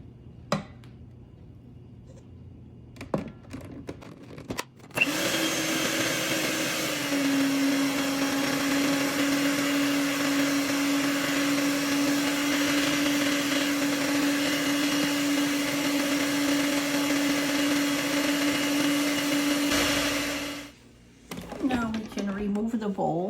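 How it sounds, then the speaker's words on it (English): An electric mixer whirs steadily for about fifteen seconds, beating oil gradually into vanilla bundt cake batter, starting abruptly after some quiet kitchen clatter and stopping with a winding-down whine. "And then let's beat in the oil gradually."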